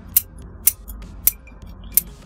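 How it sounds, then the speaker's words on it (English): Scissors snip through the long roots of a Sango Kaku Japanese maple being prepared as pre-bonsai, four crisp, close cuts spaced roughly half a second apart with quiet between them. "So I'm just pruning all the long roots off."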